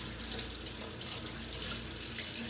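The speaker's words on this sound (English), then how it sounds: "rinsing washes the germs down the sink and reduces skin irritation" Tap water running steadily into a sink during hand rinsing, a continuous, fairly soft splashing hiss with no talk.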